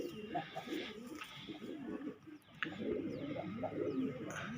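Kalsara pigeons give overlapping low warbling coos throughout, steady and moderately close, with some faint background noise and no clear voice.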